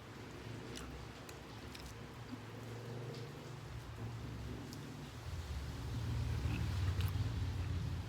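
Steady rain falls during a typhoon in the Philippines, a continuous broadband patter with faint scattered drop ticks, growing somewhat heavier and louder toward the end, with no voices.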